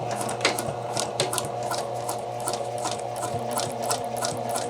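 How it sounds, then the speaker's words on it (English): A sewing machine stitches jacket bodice fabric, running in a steady close mechanical whir with regular ticking needle strokes throughout. "You should be sewing beside your ease stitches"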